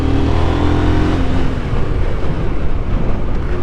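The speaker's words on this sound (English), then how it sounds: "there's the world's first skid in a 990" KTM 990 RC R prototype motorcycle in Supermoto ABS mode locking up its rear wheel in a skid, a loud, steady engine roar with rough, broadband tire noise throughout.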